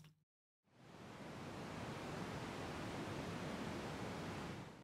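Synthesized ambient noise built in Bitwig Studio and shaped with low-cut and high-cut filters; after a brief silence a steady, soft, surf-like wash of hiss rises and holds evenly until it cuts off.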